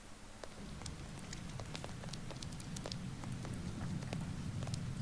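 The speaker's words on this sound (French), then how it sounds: "Il pleut tout le temps, en fait, dans ce jeu." Steady rain patters on a surface in the video game Heavy Rain, a dense hiss of droplets with scattered sharper drips, fairly quiet and without any talking.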